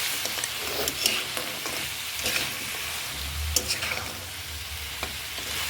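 Lentil bori fried with flat beans and potatoes in a pan, a steady close sizzle with repeated scraping stir strokes throughout and no talking.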